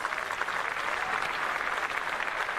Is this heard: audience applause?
yes